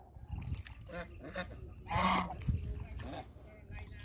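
Domestic ducks paddling in a small village pond in summer give loud honking quacks in short bursts, close by, with a few softer calls and some background noise between them.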